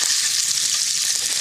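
Pork belly rolled around chili peppers sizzles in a frying pan, a steady, close, dense crackling hiss with no talk over it.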